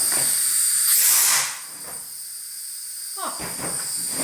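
Compressed air from an air compressor hose blasts into the crack between two stuck-together buckets, a loud hiss that cuts off after about a second and a half and leaves quieter rustling.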